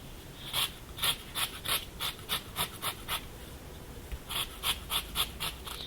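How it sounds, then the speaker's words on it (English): A lemon being zested on a grater for lemon curd, a series of soft rhythmic rasping strokes at a steady pace, close and quiet, with a short pause partway through. "Now while zesting the lemon, you've got to remember you only want the yellow parts, not the white pith that's under"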